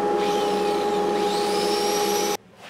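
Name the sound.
sanding a wooden bowl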